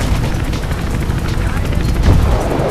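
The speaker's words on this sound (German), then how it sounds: "Ah, jetzt hört doch auf, mir zu schießen, Mann." Gunfire aimed at the player in the video game Mirror's Edge, rapid cracking shots in a steady loud barrage, close and dense, without pause.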